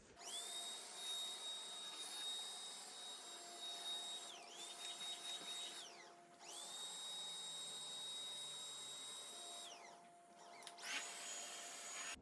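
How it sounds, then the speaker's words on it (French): A vacuum cleaner runs in an apartment during home tidying, a steady, fairly faint whining drone that dips briefly a few times as it is moved or pushed, with no talking. "Je vais passer un coup d'aspirateur et je vais le mettre."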